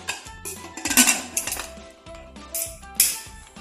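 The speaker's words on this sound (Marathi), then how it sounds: "आता आपण कुकरचं टोपण लावून घेऊ." Metallic clanks and clinks of a pressure cooker lid being handled and closed, several sharp knocks in a quiet kitchen.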